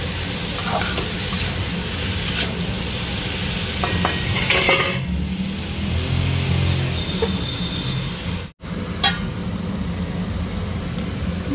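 Mushrooms added to spiced oil and stirred in a pan, a continuous close sizzle with repeated scraping strokes of a spoon, briefly dropping out partway before resuming.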